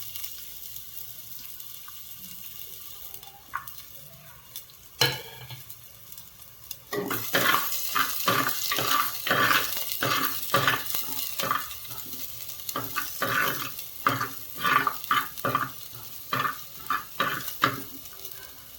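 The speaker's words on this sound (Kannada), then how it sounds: "ಈಗ ತೆಂಗಿನೆಣ್ಣೆಗೆ ಒಂದು ಅರ್ಧ ಈರುಳ್ಳಿ ಸಣ್ಣ ಕಟ್ ಮಾಡಿ ಹಾಕೋದು." Chopped onion sizzles and is stirred in hot coconut oil in a clay pot while a mackerel pulimunchu curry is made; after a quiet start, steady frying hiss and repeated close scraping stir strokes run to the end.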